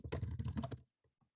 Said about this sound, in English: So you can type just like normal.